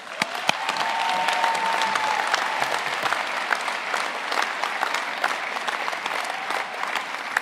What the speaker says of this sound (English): Let's give everyone one big round of applause.